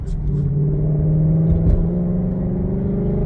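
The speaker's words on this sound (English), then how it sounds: "this thing definitely has that adjustable exhaust" A car engine with an adjustable exhaust, idling to a low revving rumble that holds steady and fairly loud throughout, with a slight swell midway.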